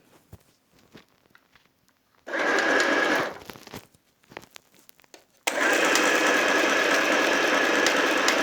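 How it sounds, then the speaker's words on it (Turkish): A sewing machine stitching a fabric mask, running in two loud, steady bursts, a short one and then a longer sustained run, with quiet handling clicks in between. "Bakın dikiş makinemi gene kattım. Oturtuyorum. Ve başlıyorum dikmeye."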